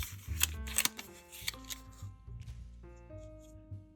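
Paper rustling and crisp creasing as a dollar bill is folded into an origami arrow, with a few sharp crinkles and soft handling sounds close up, over a faint musical background.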